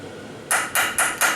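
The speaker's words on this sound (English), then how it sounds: "I've got a very small chisel, and I'm just going to tap this" A very small chisel taps a stuck snap ring four times in a steady rhythm, each strike a sharp, bright metallic knock with a short ring, close and clear.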